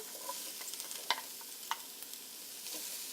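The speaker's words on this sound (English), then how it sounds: "I chopped 2 good-sized cloves of garlic, which are going straight into this hot oil." Two large chopped garlic cloves and two big shallots with red onion frying in hot oil, a soft, steady sizzle with a few sharp spatters and stirring ticks, no voice over it.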